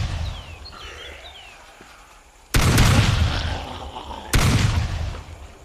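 Two loud, booming shotgun blasts in the video game Teardown, each a sudden broadband burst that decays over about a second and a half, following quieter game ambience.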